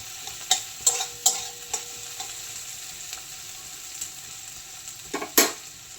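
Onions frying in a pan for Maggi noodles, stirred with a spoon: a soft, low sizzle runs underneath several sharp scraping stirs bunched near the start and again near the end, fairly close and moderately loud.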